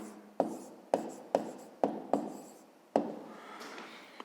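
Pen strokes on notebook paper during a fifth-grade maths exercise, a series of sharp taps and short scratching strokes at a steady pace, close and fairly quiet, with a longer rubbing scratch near the end.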